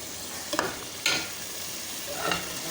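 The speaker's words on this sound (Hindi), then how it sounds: "मसाला भून रहा है।" Masala for aloo anday frying in a pan with a splash of water, giving a steady soft sizzle broken by a few louder stirring scrapes.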